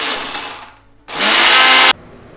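A kitchen mixer grinding spice powder for temple-style tamarind rice, a loud high whirring burst that winds down, a short pause, then a second full-power whir that cuts off abruptly, close up.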